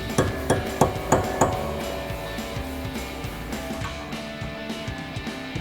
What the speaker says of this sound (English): grab a chisel and punch into this cap a little bit to get it to separate. We got a chisel and a hammer.